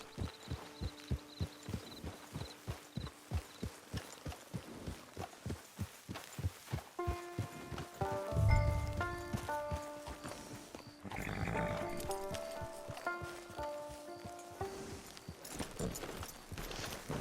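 A horse walks in Red Dead Redemption 2 with steady, evenly spaced hoof clops running throughout, joined midway by a swell of music and a low rumble.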